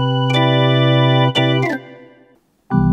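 Yamaha PSR E283 electronic keyboard on its drawbar organ voice plays sustained harmonic chords, with a few fresh attacks and a tail that fades almost to silence before another loud chord begins.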